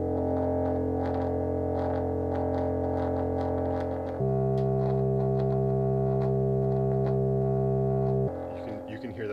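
A sustained, buzzing Moog synthesizer tone with harsh distortion from a faulty dead spot around 12 o'clock on the filter cutoff, shifting abruptly to a different pitch midway, then breaking up briefly near the end.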